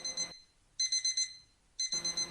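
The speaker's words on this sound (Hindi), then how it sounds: "पर इतने में ही मेरी अलार्म क्लॉक बजना शुरू हो जाती है" An alarm clock rings inside a video game in three loud, shrill bursts of rapid repeated beeps separated by short silences.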